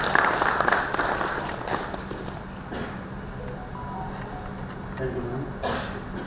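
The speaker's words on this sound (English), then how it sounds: "May we expect a huge round of applause for our respected dignitaries." An audience at a mining engineers' association seminar applauds the dignitaries, a brisk clapping that is strongest at first and then thins out into quieter room noise.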